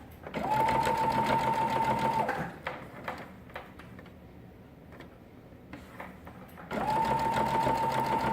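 A sewing machine stitches burp cloths in two bursts of steady, close whirring, with a quieter stretch of fabric handling and soft clicks between them.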